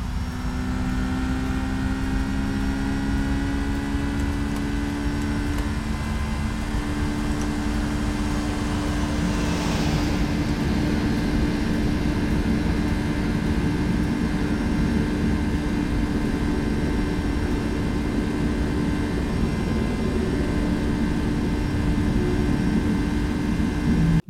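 Airliner jet engines roar steadily in an X-Plane flight simulator during a go-around, a loud continuous whine and rumble with tones slowly rising as thrust builds, heard alone without voices.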